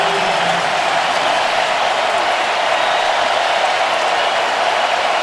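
Stadium crowd at a Tennessee at Alabama college football game fills the air with a dense, steady roar that holds at high volume from start to finish.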